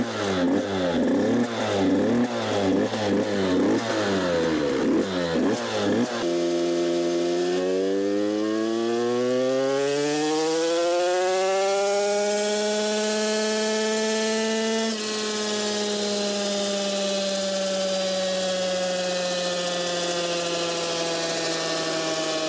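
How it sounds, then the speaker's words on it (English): A 2024 KTM SX85 dirt bike with an electric start kit fires up on a dyno, revving hard and choppily at first, then climbing in one long sustained rise and holding a loud, high, steady engine whine. "The electric start is working. We can start the bike now"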